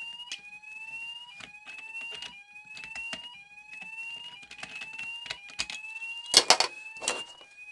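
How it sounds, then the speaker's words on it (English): A fire alarm sounds in a video game, repeating rising electronic tones in a steady rhythm, with sharp bursts of clatter and noise breaking in toward the end. "Is that a fire alarm?"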